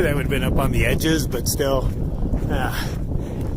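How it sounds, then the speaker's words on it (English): Steady wind gusting and buffeting the microphone outdoors on a high trail in New Mexico, a constant rushing roar underneath a person talking throughout. "It's really windy up here"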